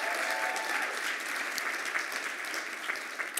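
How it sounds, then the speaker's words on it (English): An audience at a tourism industry event applauds a group of award winners, with steady, moderately distant clapping throughout and a few louder individual claps near the end. "So give them a round of applause."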